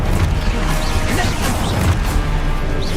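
Depulso spell effects in Hogwarts Legacy, a dense, loud burst of crashing, whooshing impacts that fills the whole stretch without pause.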